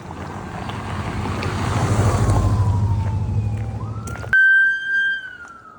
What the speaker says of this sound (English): ambulance went by